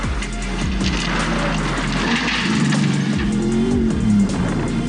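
A brand-new Nissan Navara rally car drives hard in the Gold 400 rally, its loud engine roaring and changing pitch as it shifts gears. Gravel and road noise run under it, heard close with no voices.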